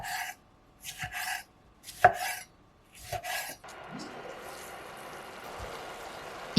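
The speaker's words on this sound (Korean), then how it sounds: "토마토는 먼저 4조각으로 자르고 꼭지 부분은 제거해 줄게요." A kitchen knife slices tomatoes into quarters on a cutting board, several short crisp cuts with quiet gaps, close and clear, followed by a softer steady sizzle-like rasp.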